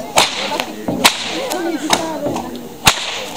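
Sharp whip cracks at a Hungarian baranta martial arts demonstration, several loud snaps in quick irregular succession over about three seconds, with the last crack especially strong.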